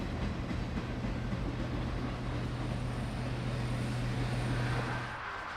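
Canadian Pacific 2816 "Empress" steam locomotive rolls past at a distance with a steady broad roar and a faint droning tone, easing off near the end.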